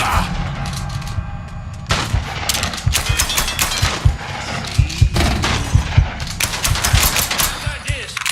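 Gunfire in Mafia III, with rapid, repeated automatic shots in rhythmic bursts, loud and close, over a constant background rumble.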